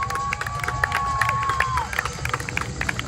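An air show crowd outdoors cheers and shouts as a parachute jumper comes in low overhead, a steady roar of distant voices with a brief whistle-like tone rising through it.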